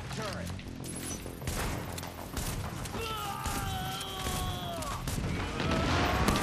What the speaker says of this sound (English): I'm gonna shoot at this dude.